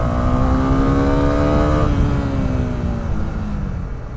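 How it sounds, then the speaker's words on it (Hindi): Honda CB 300R motorcycle accelerating hard through the gears on a road, a loud continuous engine note rising steadily in pitch, then easing after a shift. "बहुत ही तगड़ा पुल है यार, बहुत ही बढ़िया इनिशियल एक्सेलेरेशन है इस बाइक का।"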